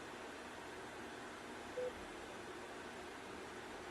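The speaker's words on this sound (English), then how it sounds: "Yeah, that's the white noise, JB." Steady white noise plays at a hearing, a constant, even hiss that stays faint and unchanging throughout with no other sounds.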